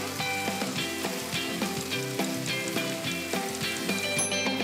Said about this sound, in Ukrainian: Обсмажимо 5 хвилин до золотавості.